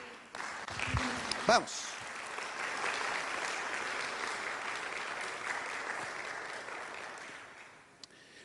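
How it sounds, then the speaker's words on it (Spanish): A church congregation applauds during a sermon. A voice briefly calls out near the start, then the clapping settles into a steady, moderately distant patter before tapering off at the end. "Da un aplauso al Señor."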